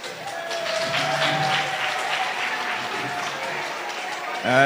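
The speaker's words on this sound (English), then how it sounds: "A round of applause for Mr. Bow and the Patriotic Alliance." An audience at a South African election debate applauds a Patriotic Alliance speaker, steady clapping filling the room, with a tonal hum underneath and a brief louder sound at the end.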